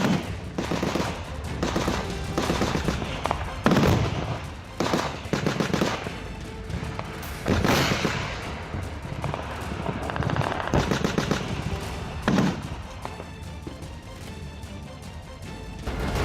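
Sustained bursts of machine-gun and rifle fire from Indian troops shooting at Pakistani posts in the Uri sector, volleys rattling in rapid clusters with sharp louder shots at intervals, echoing in the open, with no talk.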